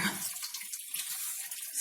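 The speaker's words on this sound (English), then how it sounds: "So I fill the pot a little bit more than halfway" Tap water pours steadily into a cooking pot as it fills for a fish patty stock, making a continuous hissing splash that softens slightly as the level rises, with no voices.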